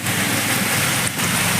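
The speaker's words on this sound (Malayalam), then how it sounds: "നല്ല മഴ നല്ല വെളിച്ചക്കുറവുണ്ട്" Heavy rain pours steadily in a dense, loud hiss over the NH 66 road at Randathani, with a brief dip near the end.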